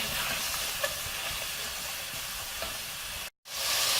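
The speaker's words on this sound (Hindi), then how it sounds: "और हम मसाले को भून लेंगे।" Masala with red chili and salt frying in a pan makes a dense, continuous sizzle with a couple of faint clicks, then a brief cut to silence before the sizzle resumes.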